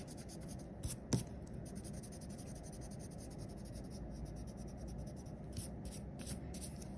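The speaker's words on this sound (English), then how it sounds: "all I have to do now is erase all the leftover stuff" An eraser rubs out leftover pencil lines on paper in quick, faint scrubbing bursts with soft brushing between them, close and quiet with no talking.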